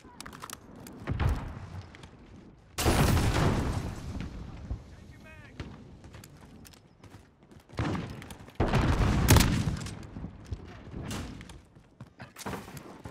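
Claymore mine blast and gunfire in a first-person shooter video game: two loud, heavy booming bursts about six seconds apart, amid scattered shots and clatter, with a voice talking over parts of it.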